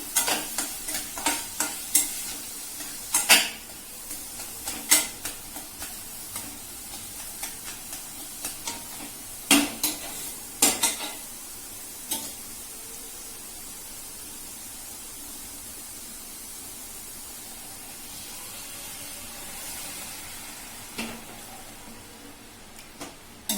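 Pumpkin pieces for halwa frying in a pan, with a spoon stirring and scraping in repeated bursts over a steady close sizzle and hiss; no one talks.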